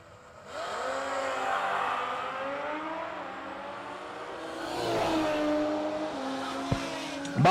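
An 89 Mustang drag car and a second car launching side by side at a drag strip, engines roaring up through rising gears, swelling again, then a sharp bang near the end.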